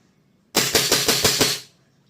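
A WE G17 Gen3 upgraded airsoft pistol fires a quick string of about six sharp, loud, closely spaced cracks that run together into one rapid burst lasting around a second, with no one talking.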